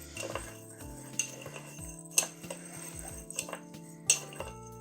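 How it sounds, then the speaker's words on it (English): Crystals being stirred with purple mica powder in a container make light, scattered clinks and ticks, with a few sharper glassy chinks among softer rattling scrapes, no talk. "Let me give that a stir about, just to coat these crystals and make them look a little bit purple"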